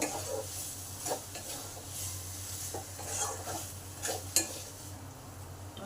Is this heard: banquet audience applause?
no